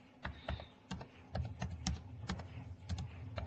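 Quick, irregular keystrokes clatter on a computer keyboard during spreadsheet work in Excel, close and fairly quiet, with a few heavier key presses standing out from the light tapping.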